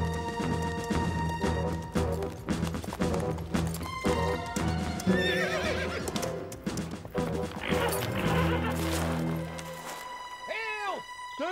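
Cartoon horse neighing and clopping hooves over a busy orchestral score, with a whinny rising near the end of a lively animated wild-brumby scene.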